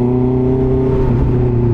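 A Honda CB650R motorcycle engine revs loud and close with strong harmonic whine, pulling hard through quick-shifter gear changes in a continuous, steady roar without talk.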